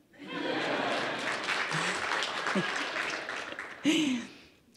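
An audience at a longevity startup demo day breaks into applause, a full wash of clapping that swells, holds, then tapers, with a few voices and a short laugh near the end.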